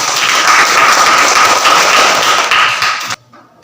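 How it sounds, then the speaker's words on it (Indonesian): Students in a classroom clap in steady, dense applause that holds at an even level for about three seconds, then cuts off abruptly into near silence. "kita berikan aplaus dulu"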